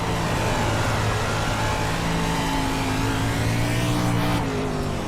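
Dirt race car engines in the iRacing video game, a dense, constant, steady roar of several engines droning together at high revs with no pauses.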